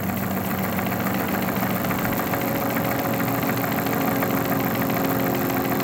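An Oldsmobile 4-4-2 W-30 engine idles steadily at about 400 RPM on a distributor test machine, a continuous low even rumble that stays constant throughout.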